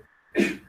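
A single short sneeze, sudden and close, bursting out of a quiet room.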